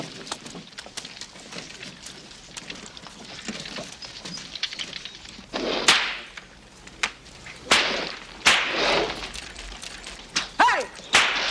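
A bullwhacker's whip cracks at draft animals in a period Western setting, with several loud, sharp snaps spaced irregularly over rumbling, rustling background noise.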